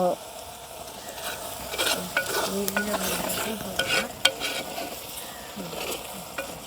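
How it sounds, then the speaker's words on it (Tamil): Mushrooms sautéing in a pan for a home-style mushroom curry, stirred with a spatula, a steady sizzle broken by scraping strokes and a few metallic knocks, close and clear, no talking. "இப்போ கிண்டி விடுவோம் சரிங்க அப்படி வதயம் கொண்டு வருதுண்டு காளானெல்லாம் அப்படியே சுருண்டு கொண்டு போட்டுதுன்னு"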